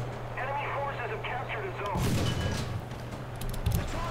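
A tank gun fires at a Panzer in the video game War Thunder, a heavy boom at midpoint with a rumbling tail and a second thud near the end, over a steady engine drone and a talking voice.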